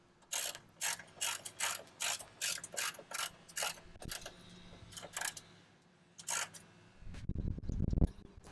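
A Crosize universal socket ratchet clicks through repeated tightening strokes in rhythmic bursts of sharp, close pawl ticks, pausing briefly between strokes, followed by a duller rumbling handling noise at the end.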